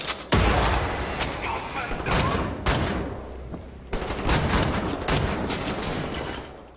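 A grenade blast and gunfire in Wolfenstein: The New Order: a sudden heavy boom, then a long, dense roar of continuous shooting and explosions, loud and close, broken by a couple of brief dips.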